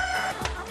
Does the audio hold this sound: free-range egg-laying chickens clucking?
yes